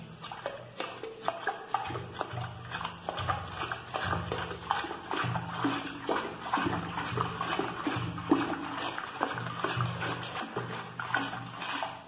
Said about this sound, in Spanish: Vamos a bajar todo el nivel del agua de la taza para que nosotros podamos trabajar a gusto.